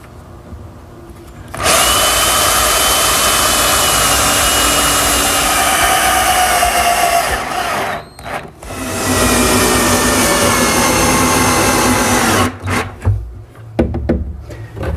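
Power drill driving screws to attach a wooden toe kick piece on a laundry center cabinet, two long loud whirring bursts with a short pause between, then brief stops and starts near the end.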